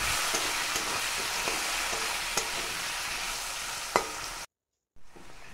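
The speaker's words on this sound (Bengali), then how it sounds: "আলুটা নুন হলুদ দিয়ে ভালো করে একটু ভেজে নিচ্ছি।" Potatoes fry with salt and turmeric in oil, a steady close sizzle with a few sharp stirring clicks, cutting to a brief silence before the hiss resumes faintly.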